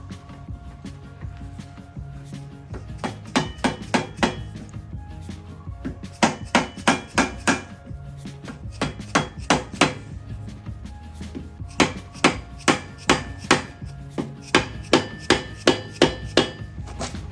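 Hammer blows on a stuck Mercury outboard lower unit land in quick bursts of four to eight sharp metallic strikes, separated by short pauses, loud and close.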